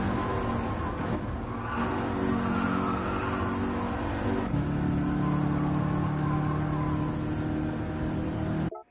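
In Gran Turismo 7, a sports car engine drones steadily while driving, rising and shifting in pitch with throttle and gear changes, loud and continuous before cutting off.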